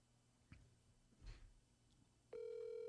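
A telephone call starts with a couple of faint clicks and rustles before a steady dialing tone comes in loud and continuous near the end.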